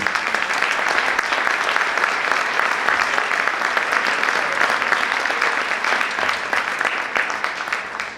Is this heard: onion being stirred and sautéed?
no